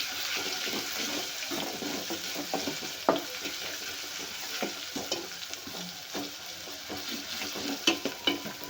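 Ginger-garlic paste and masala roasting in a pan for a spicy mutton curry, with a steady sizzle and frying crackle, soft stirring scrapes and occasional louder clinks throughout.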